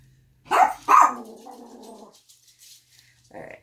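A dog gives two sharp, close barks, followed by a low, drawn-out growl that trails off into quiet.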